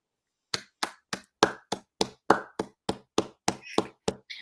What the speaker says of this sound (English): We will now cut to big applause from Michael Vaughan and Shaun Pollock.